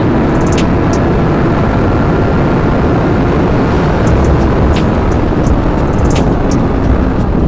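A 1000cc sport motorcycle runs at full throttle, pitted against a 600cc, as a loud, steady, dense engine roar with rushing wind noise, sustained and close throughout.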